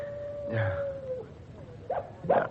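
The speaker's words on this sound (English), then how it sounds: "The dog again." A dog barks and whimpers a few times at middle distance, short yelping calls followed by two sharper barks near the end, over a faint steady tone.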